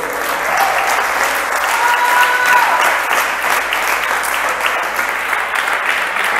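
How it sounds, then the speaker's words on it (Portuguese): A church congregation gives steady, loud applause in praise of Jesus, with dense clapping that holds evenly throughout and a faint voice underneath. "Dê um lindo aplauso a Jesus."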